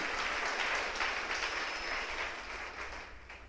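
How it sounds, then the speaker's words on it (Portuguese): A church congregation applauds together, a steady dense wash of clapping that carries on without pause, fairly loud and filling the room, with no voices rising above it. "Você pode aplaudir o Senhor"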